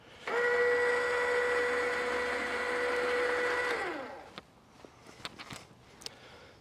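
An electric RV tongue jack motor, wired to batteries in series, whines loudly and steadily for about four seconds, then winds down and stops, followed by a few scattered clicks and knocks.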